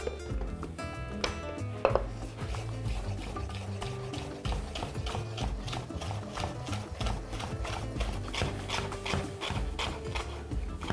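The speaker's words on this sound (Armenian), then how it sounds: "Սա կտրատելու ենք ձողիկների," Red sweet pepper being cut into thin sticks on a board: a quick, steady run of sharp knife taps, many evenly spaced chops close up with little else around them.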